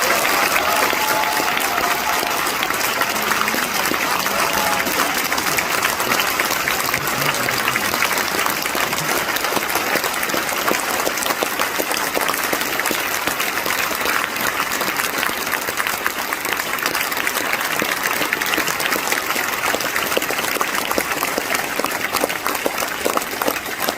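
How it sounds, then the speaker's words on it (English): Conference hall audience applauding and cheering at a political party conference speech: a loud, dense wall of clapping and cheers that holds steady for the whole stretch, with no talk on top. "We don't boo, we get to our feet and we cheer."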